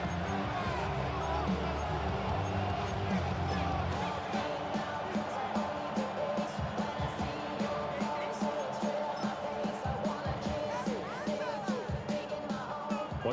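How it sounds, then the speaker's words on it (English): In the Madden NFL 26 video game, a stadium crowd cheers in a continuous roar with swelling peaks and thumping accents, loud and close throughout. "Well, this crowd into it now."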